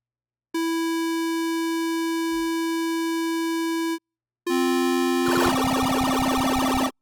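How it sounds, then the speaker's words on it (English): A synth voice run through a delay effect that is modulated by a low-frequency sine wave: a steady pure tone with harmonics sounds for about three seconds, stops, then returns as a denser, warbling smeared tone with echoing repeats, loud and alone. "let me modulate it with this low frequency sine wave"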